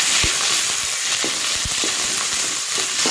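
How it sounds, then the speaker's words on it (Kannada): Moringa leaves frying in ghee give a steady, bright sizzle with occasional low stirring knocks and taps, close and continuous, with no voices. "ಸ್ವಲ್ಪ ತುಪ್ಪ ಹಾಕ್ಕೊಂಡೆ ಇದಕ್ಕೆ ನುಗ್ಗೆ ಸೊಪ್ಪು ತೊಳೆದಿಟ್ಟದನ್ನು ಚೆಂದ ಹಾಕಿ ಚೆಂದಾಗಿ ಹುರಿಬೇಕು"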